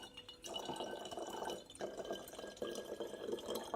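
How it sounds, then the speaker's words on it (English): White vinegar pours into a bottle in a steady, gurgling stream, with brief pauses between pours, quiet and close with no talking. "I'm going to fill this about a quarter with white vinegar"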